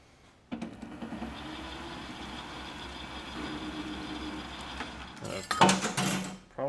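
A metal lathe cuts a steel tool post handle with a low, steady machine drone and a faint cutting hiss, ending in a clattering burst of metal sounds.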